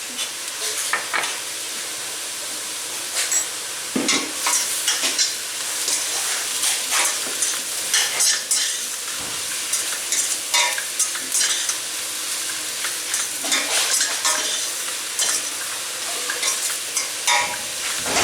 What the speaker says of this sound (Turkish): Mantarlar suyunu çekene kadar kaynatmaya devam ediyoruz.